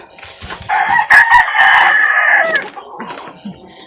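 A chicken gives a loud, drawn-out crow up close, followed by a few softer clucks as it trails off.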